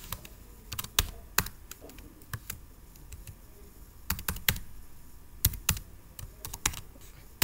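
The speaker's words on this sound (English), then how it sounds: "now I will type gform dot add" Someone types on a computer keyboard while entering ServiceNow form script code, an uneven run of sharp key clicks in bursts, close and clear over a quiet background with no speech.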